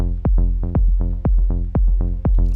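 A dark electronic groove with heavy, booming bass hits that swoop downward in pitch, repeating in a steady, loping rhythm with no voices.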